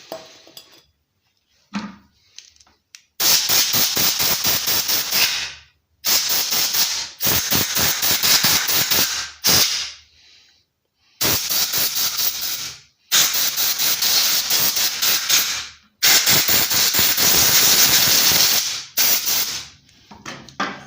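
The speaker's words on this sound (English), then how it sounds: "First we're gonna spray it with brake cleaner and then use some compressed air." Brake cleaner sprayed onto a lawnmower part from a 300cc mower, then compressed air blown over it: loud, steady hissing bursts of several seconds each, broken by short pauses, close up and alone.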